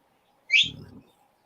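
A single bright bird chirp rings out clearly, followed by a brief low rustle, then quiet.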